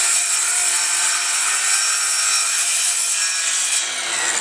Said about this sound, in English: So I scored my miter board and my cement board and cut it off.